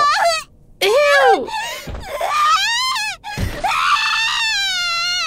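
A girl screams in agony in the Corpse Party video game as a blade is driven into her eye: loud, raw, wavering shrieks that break off and resume in several long, strained cries.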